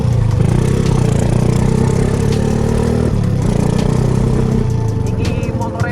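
A pink motorcycle runs steadily during a test ride, its engine drone loud and continuous with a shift in pitch midway, while someone talks over it.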